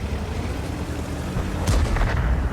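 A single heavy artillery shot booms in a tank video game, a sharp blast followed by a rumbling tail over a constant low engine-like drone.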